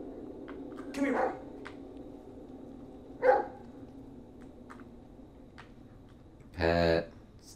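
Bullet the dog in the Blair Witch game barks three times, spaced apart and moderately loud, with the last bark the strongest, over a quiet ambient background.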